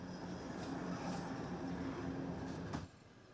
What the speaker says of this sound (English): A train said to be carrying Russian military vehicles arrives in